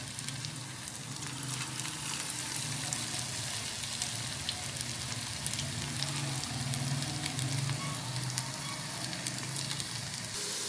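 Pakoras frying in hot oil give a steady, close sizzle with constant crackling and popping that runs throughout without a break.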